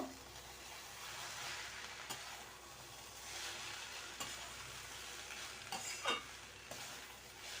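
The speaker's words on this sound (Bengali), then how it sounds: "আর দিয়ে দেবো সয়া সস ভালো করে মিশিয়ে নেব" Chow mein tossed with soy sauce in a hot pan gives a steady broad sizzle, with scraping strokes of a stirring utensil every second or two, close and alone with no talk.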